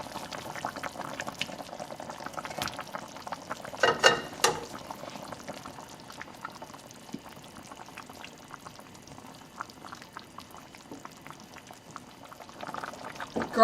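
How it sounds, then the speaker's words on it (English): Pre-cooked potatoes go into a simmering beef chile colorado stew, making soft bubbling and splashing that is faint throughout, with a brief louder plop and slosh near the middle and another toward the end. "So after your garlic, we're adding our potatoes."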